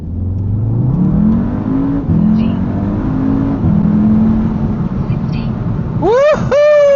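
A car pulls away hard from a standstill on an open road, its engine rising in long harmonic sweeps through several gear changes and ending in a high shrieking rev, with voices talking over it.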